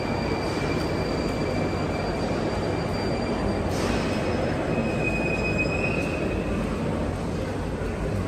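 Train at a station in Grozny, a continuous loud rumble of rolling cars with faint high-pitched wheel squeals drifting in and out, steady throughout with no talking.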